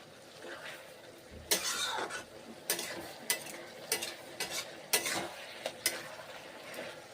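A greens curry being stirred in a pan, with repeated spatula scrapes and knocks in an irregular rhythm over a faint low sizzle, close by.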